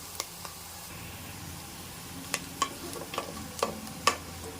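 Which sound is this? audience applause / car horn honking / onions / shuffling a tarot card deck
onions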